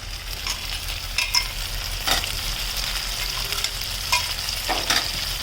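Long slices of salt-soaked eggplant frying in hot oil, a dense, steady sizzle close up, with occasional scraping and stirring clicks over it.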